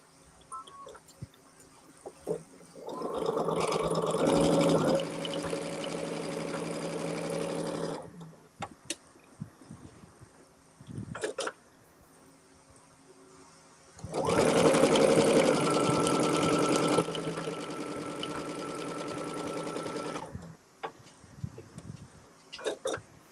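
Home sewing machine stitching quilt blocks along a diagonal seam, whirring loudly in two sustained runs of several seconds each, with quiet handling of fabric and brief pauses between them.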